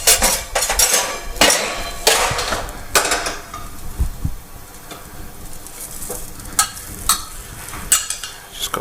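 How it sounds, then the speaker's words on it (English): New potatoes crisping in a hot pan, a steady close sizzle broken by loud scraping stirs and clattering of the pan and utensils, with no talking. "crisp up new potatoes."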